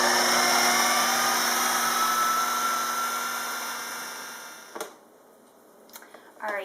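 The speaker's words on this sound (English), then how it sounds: "I'm going to do it 1 egg at a time though, just so that it really has a lot of time to process and grind that grain down" A blender grinds coarse sprouted grain with eggs for gluten-free sourdough, a loud steady whirring drone that winds down and fades, followed by a few faint knocks near the end.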